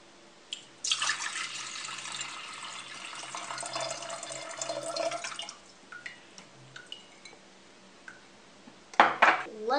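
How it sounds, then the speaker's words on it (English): Water poured into an electric kettle, a steady hissing splash lasting several seconds that fades into drips, followed by a sharp clatter of the kettle being handled. "And then pour the water in."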